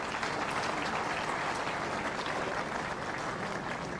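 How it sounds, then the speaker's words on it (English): Sustained audience applause at a Kenyan regional investment forum, a steady wash of many hands clapping throughout, fairly distant and even, with no speech over it. "I want us to give applause to our governors, our athletes, and the MD Kenya Power."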